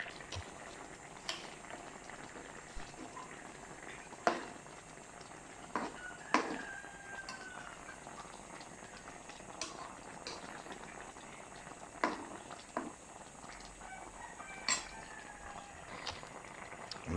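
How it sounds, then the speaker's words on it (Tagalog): Ginataang tulingan, a coconut milk stew with tuna, bubbles in a pot in a steady low simmer, with scattered clinks and soft knocks of a utensil over the boil and no talk. "kumukulo na siya"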